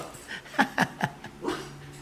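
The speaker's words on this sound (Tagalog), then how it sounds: "Nagreklamo na yung mga aso." Dogs whimpering and whining indoors, a few short high yelps and whines in quick succession close by, with breathy panting between them.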